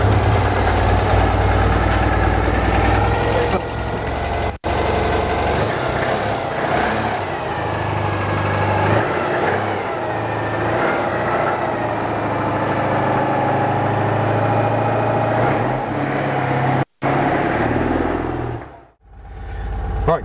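Citroën 2CV engine after a cold start, settling into a steady, loud air-cooled idle with a throbbing, knocking character and small wavers in speed, then cutting off near the end.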